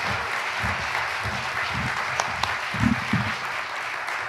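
Audience clapping after a poetry reading, a dense, steady round of applause from a crowd that holds evenly throughout.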